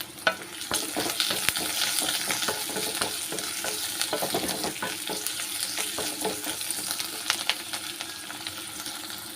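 Onions and crushed garlic sizzle steadily in a pan while a spoon scrapes and stirs through them in repeated close strokes, with no talking over the frying.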